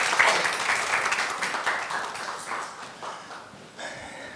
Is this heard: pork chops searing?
no